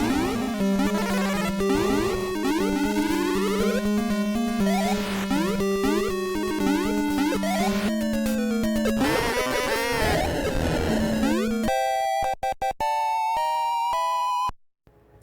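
Chaotic, glitchy chiptune burst from the Sphinx boss in Super Mario Land being struck by the Powerball, a loud cascade of warbling 8-bit tones ending in sharp stuttering beeps, with no talk.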